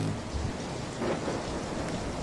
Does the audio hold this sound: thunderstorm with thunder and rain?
yes